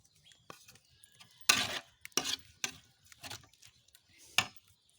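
Spices go into a frying pan and get stirred, making a few sharp, close metallic scrapes and clinks separated by quiet gaps in a calm kitchen.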